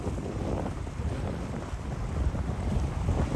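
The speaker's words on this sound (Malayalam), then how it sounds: "ഒരു ചെറിയ ബോട്ടിലാട്ടോ നമ്മളിപ്പോൾ അങ്ങോട്ടേക്ക് പോകുന്നത്" A small boat runs across open sea in the Maldives toward a sandbank, with a continuous rushing wash of water and heavy wind buffeting the microphone and no voices.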